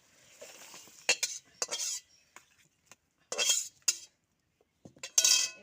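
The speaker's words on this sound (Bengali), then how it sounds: "ওদের রান্না হয়ে গেছে, এবার মাংসটা গামলা ঢেলে ফেলবো।" Cooked whole chicken with skin being tipped from a cooking pot into a large bowl: bursts of metallic clatter and scraping of a spoon against the pot, with quiet gaps between, close and fairly loud, no talking.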